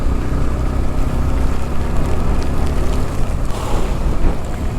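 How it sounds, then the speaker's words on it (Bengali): Strong, gusty stormy wind with rain buffets the microphone during a motorcycle ride in Bangladesh, producing a loud, continuous roar with a deep low rumble and no pauses. "বৃষ্টির সাথে আজকে ভালো বাতাসও আছে একবারে ঝোড়ো বাতাস"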